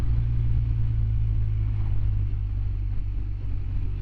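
Motorcycle riding through Thetford Forest, with a steady low engine drone and wind rush at the microphone, continuous and close throughout.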